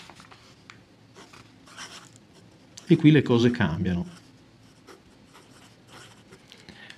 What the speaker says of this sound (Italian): Lo provo su una carta più liscia.